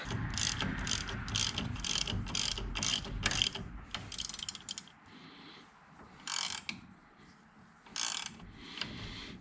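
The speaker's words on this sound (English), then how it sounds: "and you got lock nut. And we will tighten that down." Ratchet clicking in rapid bursts as a spindle lock nut is tightened on an '05 Ford Ranger front spindle; close, loud runs of pawl clicks with short pauses between strokes.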